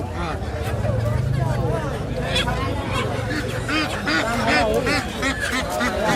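Ducks and geese quack and honk repeatedly at a village poultry market, a busy overlapping chorus of calls mixed with people talking and crowd babble nearby.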